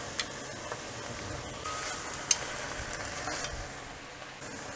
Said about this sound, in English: Stir fry the chicken for about 5 minutes.